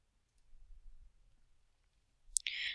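A short, sharp mouse click while working in ArcGIS, one crisp snap near the end after near silence, followed by a brief burst of broadband noise.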